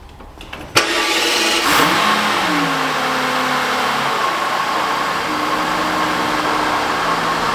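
Mercedes-Benz CL 600 engine cranks and fires with a sharp catch, revs up briefly, then settles into a steady, smooth idle that carries on alone, close and loud.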